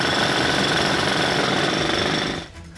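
A jackhammer drills steadily at the Drigh Road bridge construction site, a loud, continuous rapid hammering that runs for over two seconds before cutting off abruptly near the end.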